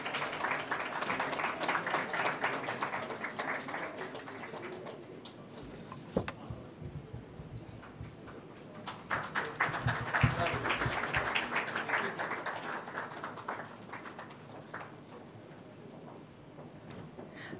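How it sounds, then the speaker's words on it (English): An audience at an investor startup event claps steadily for a winning team, with dense, moderately loud applause. The clapping swells again midway and continues with some scattered claps and faint background voices. "give them a huge round of applause"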